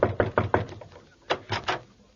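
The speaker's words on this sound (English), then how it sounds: "I'll knock on the door." Knuckles rap on a dressing room door: a quick run of four firm knocks, a pause, then three more, close and clear with no talk over them.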